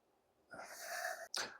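A single sharp sneeze: a quick building inhale, then an explosive burst, fairly close and clear with no talking.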